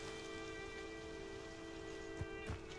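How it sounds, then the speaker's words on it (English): Steady rain pours from a magic rain cloud in the Hogwarts Legacy video game, a constant close hiss with a few brief soft thumps near the end. "Is that a rain cloud?"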